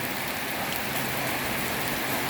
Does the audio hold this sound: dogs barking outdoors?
no